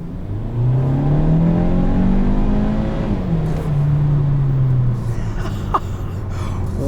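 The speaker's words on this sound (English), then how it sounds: "I'll do the kick down in sport mode." A 2021 Kia Soul Turbo in sport mode kicks down and accelerates hard, its engine note climbing in pitch, dipping at a shift, then rising again, loud and close from inside the cabin.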